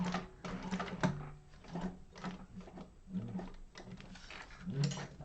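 A sewing machine does top stitching on a sling bag. It gives a close, uneven mechanical whirr in short bursts, with soft clicks and handling noises between the runs.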